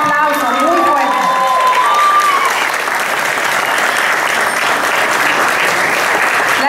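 Loud, dense audience applause fills an award ceremony, sustained clapping from a large crowd throughout, with a voice over a loudspeaker at the start.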